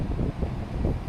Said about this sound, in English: it's kind of windy down here by the water